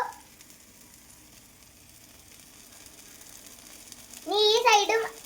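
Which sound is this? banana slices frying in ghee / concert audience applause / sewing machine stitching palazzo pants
banana slices frying in ghee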